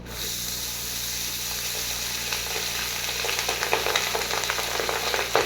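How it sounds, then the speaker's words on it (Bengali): Steady sizzling hiss of rice frying in oil in a pan with fried cashews and raisins, close and continuous, with light stirring crackles growing toward the end. "আমি এবার কাজু কিশমিশটা সব ভাজা হয়ে গেছে আমি এবার রাইসটা দিয়ে দেবো"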